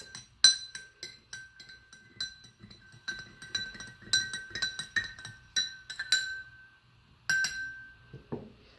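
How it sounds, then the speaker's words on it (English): A metal spoon stirs salt into a glass of water, clinking repeatedly against the glass in quick, bright, fairly quiet taps with short pauses between bursts. "We'll take our spoon and give it a little mix."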